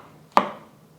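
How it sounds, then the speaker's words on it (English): A knife thinly slices fresh shiitake mushrooms on a cutting board, with two sharp, close chops about two-thirds of a second apart in a quiet kitchen. "I'm going to thinly slice these mushrooms"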